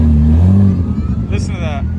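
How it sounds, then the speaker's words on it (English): A Porsche GT3 RS engine revs loudly at a cars-and-coffee meet, a deep sustained roar that falls away partway through, with people talking over and around it. "GT3 RS, it sounds crazy too."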